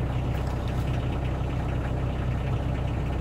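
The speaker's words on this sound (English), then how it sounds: "I'm gonna go in the back and turn on this heater." A heater runs in the back of a Sherp all-terrain vehicle, putting out a steady, loud, low droning hum with a faint rhythmic pulse that stays even from start to finish.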